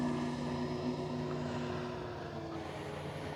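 A steady electric motor and propeller drone from an 82.5-inch Hangar 9 Piper J-3 Cub electric RC model plane flying low over grass, an even tonal hum that holds for several seconds and fades slightly toward the end, with no speech.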